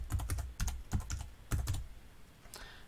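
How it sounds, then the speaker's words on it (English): Quick bursts of typing on a computer keyboard while entering data in Code::Blocks, clicking in small clusters close to the mic, then a pause and a final keystroke. "Now you can start typing in your data."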